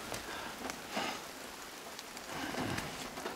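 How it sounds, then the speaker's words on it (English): Rain in the video game Death Stranding, a steady hiss of heavy rainfall pattering on surfaces, continuous and close, with slight swells in intensity. "the rain has caught up with us"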